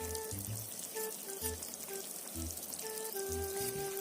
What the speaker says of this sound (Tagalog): kumukulo na po yung tubig